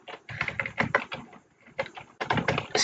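Computer keyboard typing comes in close, clustered bursts of rapid key clicks, with a brief pause midway.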